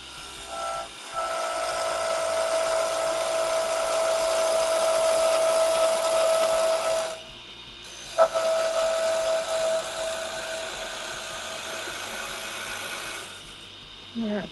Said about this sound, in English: It's amazing what a slow speed grinder and a CBN wheel can do though.